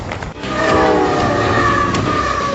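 The T-27 passenger train from Beijing to Lhasa rolls across the high Tibetan plateau with a loud, steady roar and a sustained horn-like tone.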